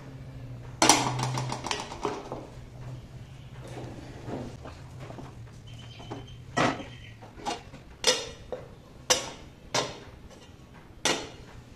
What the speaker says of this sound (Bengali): এখানে ঠাকুরের জন্য পায়েস রান্না হচ্ছে